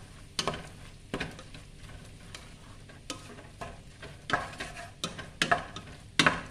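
Ground beef sautéing in a pan for a fresh-tomato marinara with chili powder, with a soft steady sizzle broken by several sharp scraping stirs of a spoon, close and fairly quiet, with no talking.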